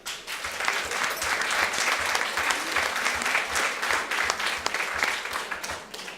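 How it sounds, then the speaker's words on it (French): Audience applause for the Maxime Seyès caterer team at a dinner event, a steady dense wash of many hands clapping that holds for several seconds without talk. "On peut les applaudir."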